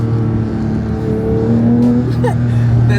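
Porsche 911 GT3 engine accelerating, a loud close high-revving roar whose pitch climbs steadily, with faint tire noise and no talk over it.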